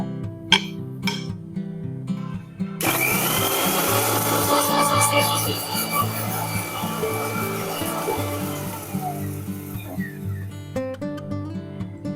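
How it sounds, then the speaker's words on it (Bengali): A mixer grinder pulverises roasted coriander, cumin, dried chilli, bay leaf, cardamom and fennel into powder. It starts abruptly with a loud, rough whirring grind that runs for about seven seconds over background music, then winds down. "এবার মশলাটাকে একটু গুঁড়ো করে নিই।"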